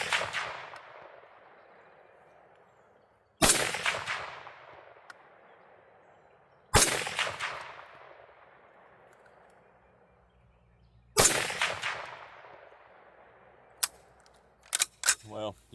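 Fulton Armory M1 Carbine rifle firing outdoors: sharp, loud single shots with long decaying echoes, spaced a few seconds apart at first, then a quicker burst of three or four shots at the end.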